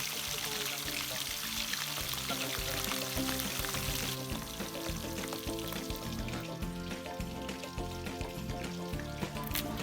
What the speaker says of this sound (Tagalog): Habang nagpiprito tayo guys